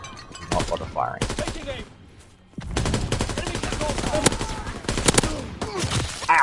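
Video game gunfire comes in loud, rapid automatic bursts, with a brief lull partway through before the firing resumes densely.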